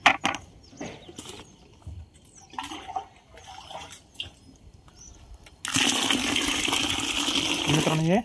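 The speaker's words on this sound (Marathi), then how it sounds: "त्यानंतर अजून आपण 2 लिटर पाणी मिक्स करू त्यात." Two litres of water poured into a homemade amino acid mixture, a loud steady gushing stream that starts suddenly after scattered clinks and handling noises and runs continuously to the end.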